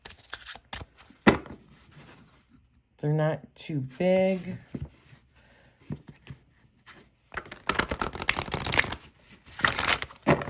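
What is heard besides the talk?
shuffling oracle cards with linen cardstock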